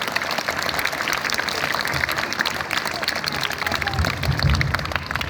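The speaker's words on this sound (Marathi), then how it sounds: "आपण सर्वजण टाळ्या वाजवून त्यांचंही या ठिकाणी आभार व्यक्त करू" A crowd at a village felicitation event claps together to thank guests, dense steady applause filling the whole stretch, fairly loud with some crowd noise mixed in.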